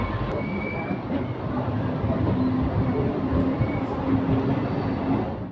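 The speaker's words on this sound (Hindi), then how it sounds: "तो ट्रेन हमारी अराइवल हो रही है अपनी सुगौली" A Raxaul–Mehsi MEMU train pulls into Sugauli Junction, a steady close rumble of rolling stock with faint wheel squeal, holding even and loud throughout.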